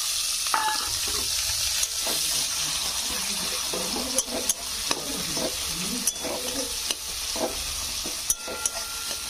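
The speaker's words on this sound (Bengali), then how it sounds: "পেঁয়াজটা ভালো করে ভেজে নেবো" Chopped onion and garlic frying in oil with cumin while being stirred, a steady sizzle with scraping stirs and clinks from a utensil against the pan.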